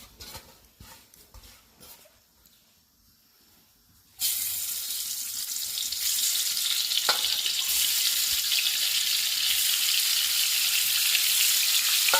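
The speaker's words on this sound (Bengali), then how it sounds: "ডিমগুলোকে ভেজে নেব" After a few seconds of quiet handling, eggs hit a hot pan and a loud, steady sizzle takes over and continues to the end.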